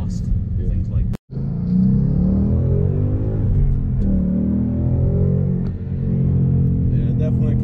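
Ford Mustang GT with stock exhaust accelerating from inside the car, a loud low engine rumble that surges in pitch after a short dropout, with people talking over it.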